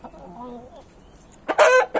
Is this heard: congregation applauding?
no